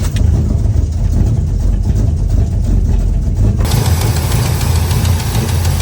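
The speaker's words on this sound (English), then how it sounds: "That cap and rotor makes a lot of noise" A Small Block 350 V8 in a 1985 Chevy square body truck idles loud and close, with a rapid rattling tick from the distributor cap and rotor over the steady engine rumble, and the tone brightens partway through.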